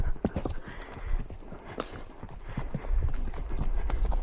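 A pony's hooves clip-clop steadily while walking on a tourist ride, the irregular hoof strikes close and clear over faint outdoor background.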